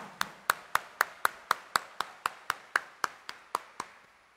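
Evenly spaced claps, about four per second, sound at a New Year's Eve Mass in Quiapo Church, each one sharp and distinct in a fairly quiet, steady rhythm.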